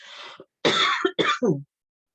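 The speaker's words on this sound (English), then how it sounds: "apologies, I just got a cough all of a sudden." A sudden fit of coughing from a speaker during a spiritual talk, several harsh, close coughs and throat clearing in quick succession before falling silent.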